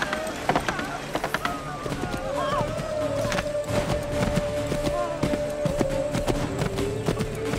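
Horse hooves clip-clopping at a run in Assassin's Creed 3, a quick, steady rhythm close by, mixed with game battle noise and a sustained tone throughout.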